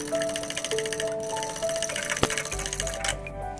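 Curd marinade for fried chicken is beaten briskly in a bowl, giving quick rhythmic ticking taps of a utensil against the bowl, quiet and close, with one sharper knock partway through.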